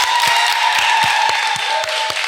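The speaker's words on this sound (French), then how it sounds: "Vous pouvez vous applaudir." An audience at a live show applauds in a steady broadband wash of clapping. A sustained tone and regular low thumps of music run underneath.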